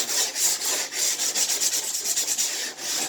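A cheap sanding block rubbed back and forth over wood, giving a close, steady rasping scrape in repeated strokes with short pauses between them, with no talk.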